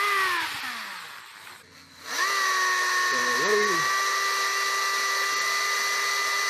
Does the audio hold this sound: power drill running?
yes